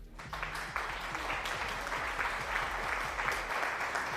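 Applause during a livestreamed game show, steady clapping from a small group lasting about four seconds, with a low musical tone droning underneath.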